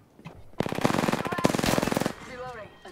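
Rapid automatic gunfire in the video game Apex Legends: a loud, sustained burst of evenly spaced shots lasting about a second and a half, followed by a faint voice.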